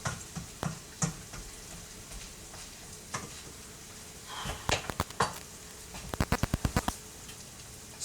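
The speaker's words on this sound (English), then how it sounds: "I'm frying the beans, frying the onion, frying the oregano." Quiet sizzling of beans, onion and oregano frying in oil, with scattered pops and crackles and a quick burst of rapid tapping near the end, like stirring against the pan.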